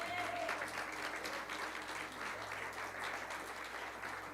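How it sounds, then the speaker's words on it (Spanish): A church congregation applauds during a sermon, a steady wash of clapping that sounds soft and somewhat distant, with a low hum underneath. "dale un aplauso al Señor"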